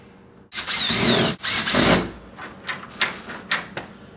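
A power drill driving screws into a deadbolt and door knob set, two sustained high whirring bursts followed by a string of short, sharp trigger pulses as the screws seat, close and loud.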